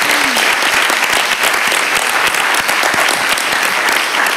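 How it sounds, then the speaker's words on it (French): An auditorium audience applauding after a round-table discussion, dense sustained clapping throughout, loud and close, with no talk over it. "je crois qu'on peut les applaudir"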